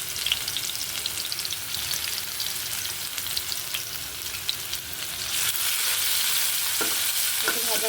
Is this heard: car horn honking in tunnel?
no